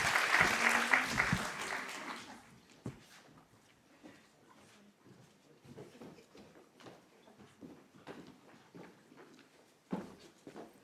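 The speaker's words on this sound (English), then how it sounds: "Please, a round of applause for the panel." A burst of applause from an audience at a panel discussion on women's sport fades quickly, leaving scattered light claps and faint room noise.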